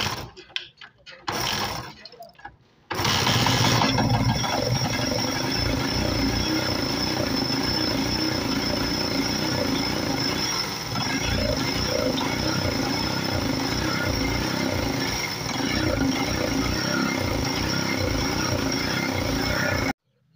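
A motorcycle that won't go above 40 runs after a couple of brief stuttering bursts, then holds a loud, close, steady mechanical whir with rattling, gear-like texture.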